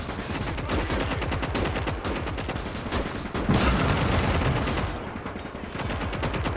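Heavy gunfire and cannon blasts from a World War II Eastern Front battle video game, with a tank firing on a building; dense, continuous rapid shots and explosions stay loud throughout, with a brief heavier boom mid-way.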